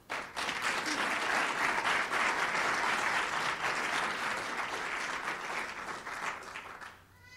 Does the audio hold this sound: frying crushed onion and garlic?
no